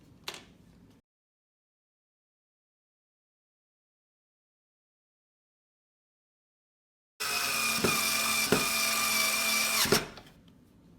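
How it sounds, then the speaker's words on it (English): A power drill drives screws into the shell of a Nintendo console during a 72-pin connector repair, running in one loud, steady whir of about three seconds with brief pulses, after a short quiet opening. "The thing that's nice about having a drill,"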